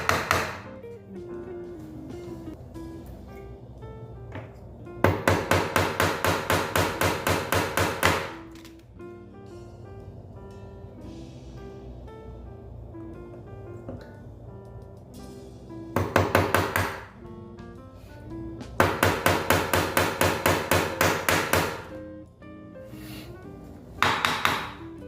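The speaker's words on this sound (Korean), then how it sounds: "될 수 있으면 못이 휘어지지 않게 똑바로 서 있게 박으시고" A hammer drives nails into a wooden board for string art in bursts of rapid, close, sharp taps, several runs separated by quieter stretches, with no talk.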